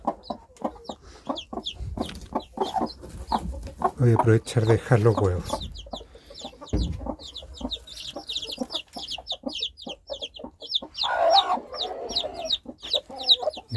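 A nervous hen clucks repeatedly near a coop with chicks, producing short rhythmic clucks and agitated calls mixed with rustling, while someone talks over them.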